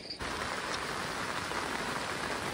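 Steady, dense hiss of rain falling, continuous and fairly close, with no voices.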